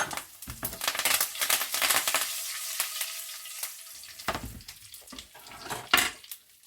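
Cumin and sesame seeds spluttering in hot oil: close, crackling bursts of sizzle that come in waves, with brief quieter gaps between the louder spattering.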